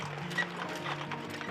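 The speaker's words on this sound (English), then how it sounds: "You can also take a horse-drawn carriage" Horse hooves clip-clop faintly on the road as a horse-drawn carriage passes near Zakopane in Poland, a steady soft trotting rhythm under low background noise.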